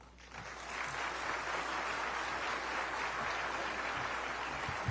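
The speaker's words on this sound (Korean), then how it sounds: "우리 선교사님 나오실 때 뜨겁게 박수로 맞이해 주시기 바랍니다" Audience at an evening mission-conference service in Northern California claps to welcome a missionary onto the stage: a dense, steady wash of applause that swells in quickly and holds evenly, with no speech.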